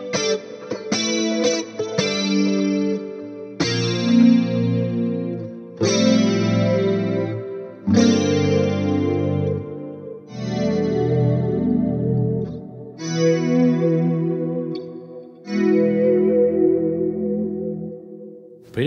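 Electric guitar runs through a Helix preset with chorus, delay and reverb, ringing sustained chords and phrases with long echoing tails, clear and prominent with no talking.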